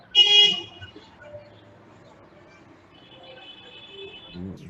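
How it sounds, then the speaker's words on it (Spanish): A car horn gives one loud, short honk right at the start, followed by quieter traffic-like tones and a faint bump near the end. "ruidos horribles como ese claxon"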